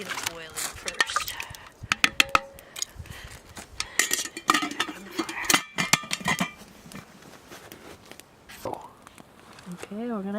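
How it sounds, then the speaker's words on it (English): Shrimp and rice stirred in a metal camping pot in the woods, with scattered scrapes, clinks and taps of a utensil against the pot, interrupted by quiet speech nearby. "we're gonna add some shrimp now and give it a stir."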